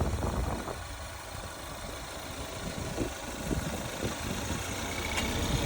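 A car engine with a turbocharged GDI engine idles after a jump start with a steady low rumble and mild irregular chugging, close by and fairly quiet, with no one speaking.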